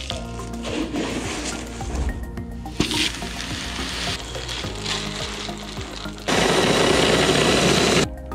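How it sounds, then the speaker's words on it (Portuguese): Pilsen malt cracked in a grain mill for home-brewed beer, a steady rattling, crunching grind that runs continuously and close, getting louder and denser toward the end. "Achei minha bombona maior para moer esse tanto de malte"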